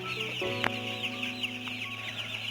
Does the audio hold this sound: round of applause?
no